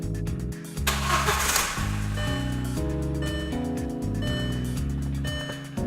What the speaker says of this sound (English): we're going to go ahead and turn the car on.